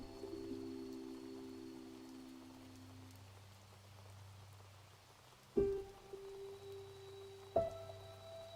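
Gentle rain falls in a French short film, a soft continuous patter beneath low sustained tones, broken by two sharp, louder hits near the end.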